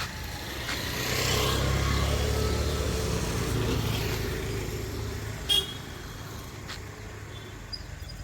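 Road traffic passing a roadside bus stop, a car swelling past up close then fading, with a couple of short horn toots further off and a steady background hum of vehicles.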